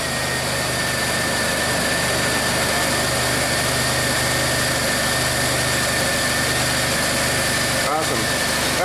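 A 1991 Buick with a 3800 engine runs at a steady idle, its low mechanical drone and whine continuous and close throughout, with a brief shift near the end.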